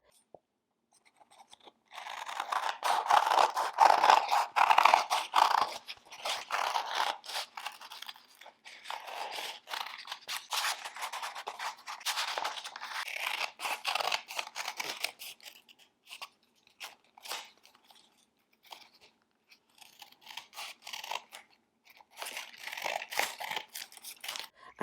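Scissors snip by hand through stacked cardstock paper petals for a giant holiday poinsettia, giving close, irregular crisp crunching cuts in bursts with short pauses.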